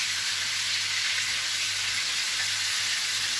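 Food fries in a pan with a steady, loud, continuous sizzle and crackle that stays even throughout, with no voices.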